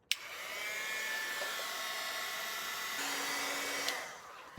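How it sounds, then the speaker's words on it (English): A heat tool blows hot air over Distress Oxide inks, a steady close whoosh that starts with a click, holds evenly for about four seconds, then cuts off. "I'm gonna get a heat tool out, because that sometimes helps quite a bit"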